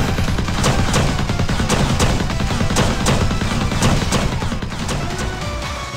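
Rapid mech weapon gunfire from Tokyo Afterschool Summoners, a loud sustained barrage of regular sharp bursts over a heavy rumbling low end, with no voices.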